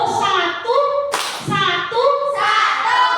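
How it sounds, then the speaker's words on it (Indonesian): A group of teachers at an ice-breaking session claps once on command, one crisp, loud burst of hands set between stretches of voices speaking or chanting. "Tepuk satu."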